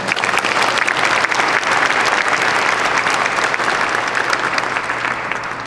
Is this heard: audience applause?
yes